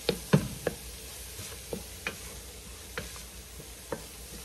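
Vegetables cook in a pan for tomato soup, giving a soft steady sizzle punctuated by light, irregular clicks and taps of stirring utensils against the pan, close by and without talk.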